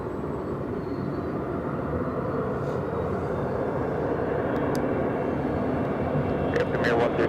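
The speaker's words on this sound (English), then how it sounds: "Let's take a look if Air Premia is now lifting off and now getting off the runway." An Air Premia heavy airliner lifts off the runway at Los Angeles International Airport, its engines a steady, broad roar that holds at constant loudness throughout, with faint higher tones near the end.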